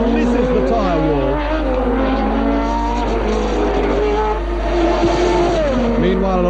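A 1983 Formula 1 car spins off the track after braking too late, engine noise and tyre sounds running steadily beneath loud race commentary.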